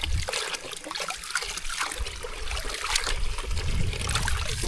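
Freshly harvested black radishes are rinsed in water, giving continuous close trickling, sloshing and splashing that stays fairly loud throughout, with no voices.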